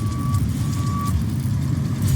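Steady reversing beeps from a heavy work truck in the Roadcraft video game, a sustained tone that sounds, pauses briefly and resumes, over a loud, constant low diesel engine rumble.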